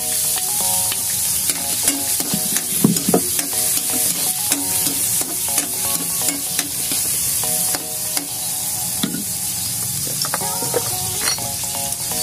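Garlic sizzling and frying in a hot pan for Bicolano pancit bato guisado, with a steady close crackle and frequent scraping stirs of a spatula against the pan, no talking.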